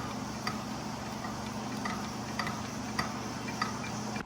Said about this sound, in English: Alternating sides going up, what is it, like 20 inch-pounds until you reach 170.